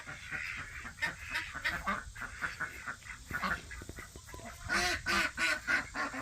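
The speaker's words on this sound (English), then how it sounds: "can hear the ducks way more than the guineas" Ducks quack repeatedly in a lively, overlapping chorus, fairly close, with the calls coming in short bursts and growing louder toward the end.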